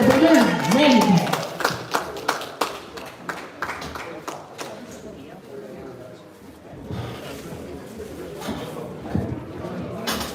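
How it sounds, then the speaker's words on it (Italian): Audience at an amateur boxing match claps in a brief burst of applause while an announcer speaks over the arena. "Facciamo un applauso anche a Luca Pagani."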